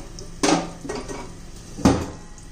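A metal lid set down on a pan of dill greens and besan bhaji, giving two or three sharp clanks of metal on metal close by, with quiet gaps between and no talking.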